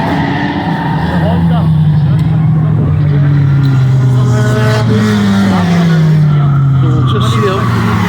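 Honda Civic race car at an endurance race losing grip and spinning, engine note falling and rising in long sweeps with skidding noise, heard from a distance under continuous commentary.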